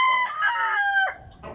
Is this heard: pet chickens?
yes